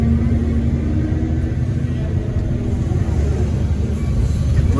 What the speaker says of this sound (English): We're just digging it out with the old Volvo EC210CL 2007